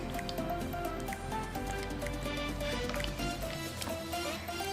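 Clear water slime is worked with activator, giving soft wet squishes and sticky clicking pops in a quiet, close, steady rhythm, with no talking.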